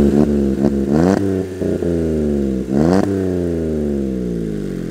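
A car engine revs hard through a brand-new exhaust, deep and throaty, rising and falling in pitch with several sharp blips, loud and close.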